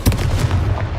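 A Confringo spell blast in Hogwarts Legacy lands as a single loud, close explosive boom with a heavy low thump that decays quickly.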